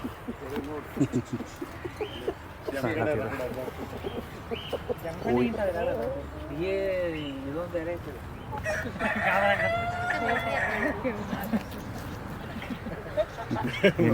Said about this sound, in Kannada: ಇಲ್ಲಿರುವಂಥದ್ದು ಬ್ರಹ್ಮ ಚಿಕನ್ಸ್ ಅಂತ ಹೇಳ್ತಾರೆ